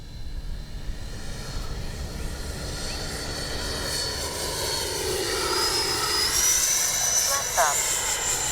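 An FMS 80mm F-86 RC jet flies past with a steady broadband ducted-fan roar that builds slightly and holds loud throughout, with a rising whine near the end.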